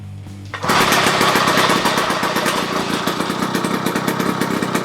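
A small gasoline engine on a motorized bicycle, just filled with a freshly shaken oil-and-fuel mix, starts up after a brief quiet moment and then runs loud and steady in a fast, buzzing, even chug.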